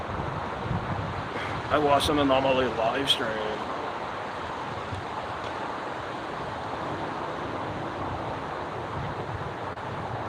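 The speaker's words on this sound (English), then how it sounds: "it's fucking windy, and I hate when it's fucking windy" Strong wind blows outdoors as a constant, loud rushing roar buffeting the microphone for the whole stretch, with a voice briefly heard near the start.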